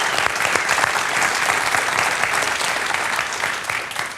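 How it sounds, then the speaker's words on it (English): A conference audience gives a round of applause at a tech talk, a dense, even wash of clapping that holds steady for several seconds and eases slightly toward the end. "I think we should all give him a big round of applause for the job he's done."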